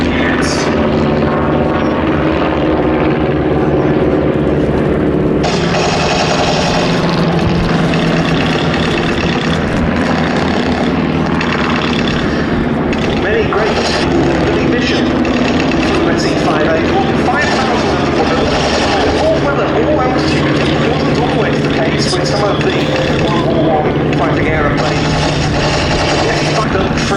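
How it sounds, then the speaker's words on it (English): WWI replica biplanes, a Fokker Dreidecker triplane and an SE-5, fly an airshow display at Duxford, their propeller engines droning loudly and continuously, rising and falling as they manoeuvre, with an announcer talking over them. "The Dreidecker is now showing something of their incredible manoeuvrability in trying to get onto the tank."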